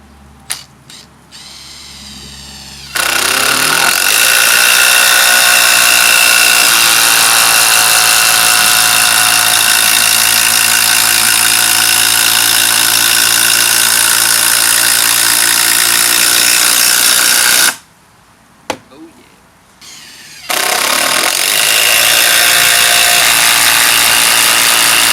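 A Makita DTD171 cordless impact driver hammers 200mm 14-gauge galvanized batten screws into deck timber without pre-drilled holes, producing two long, loud, continuous rattling bursts separated by a brief pause.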